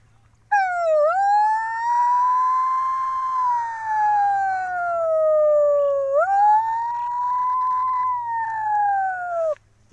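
A voice imitates a police siren with long slow wails, rising and falling in broad sweeps held for nearly ten seconds, loud and close with no other sound around it.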